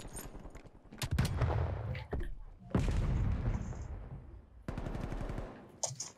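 Bursts of automatic gunfire crackle in Call of Duty Cold War, coming in several rapid volleys with short gaps and one pause, loud and up close, with faint background voices.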